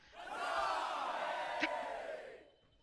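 A large crowd roars and cheers all around a fantasy arena, a broad sustained swell of voices that rises quickly, holds loud for about two seconds with a brief sharper shout in the middle, then fades away.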